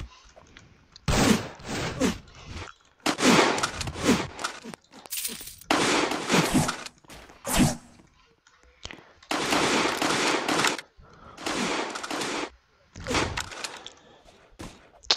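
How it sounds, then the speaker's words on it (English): Bursts of automatic gunfire from a Roblox street-shooter game, several loud rapid volleys separated by short pauses, some sharp single shots between them. "She's shooting through walls."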